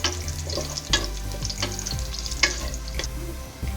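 Raisins sizzle and fry in hot oil while being stirred for a sweet Bengali jorda rice, a steady close crackle broken by repeated scraping strokes of the spoon.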